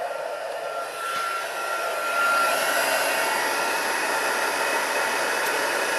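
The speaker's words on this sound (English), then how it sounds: "Just need to heat up my heat tool, and then we are pretty close to finish." A heat tool melting embossing powder in a papercraft setting, blowing a steady, close whooshing hiss that swells slightly and holds through to the end.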